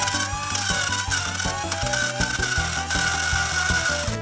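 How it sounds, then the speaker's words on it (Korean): A blender grinding carrots runs close and steadily without pause, with a rough, rasping texture and irregular low knocks as the carrots tumble inside. "당근을 믹서기에 넣고"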